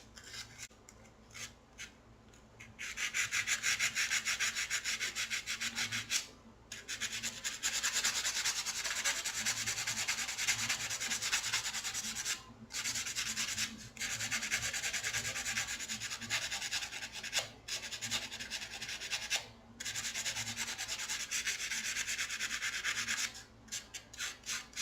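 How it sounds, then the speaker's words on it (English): Sanding a handmade wire wrapped earring frame: long sustained rasping strokes in several bursts separated by short pauses, close and fairly steady, with no talking. "And I'll take a second and sand all of that."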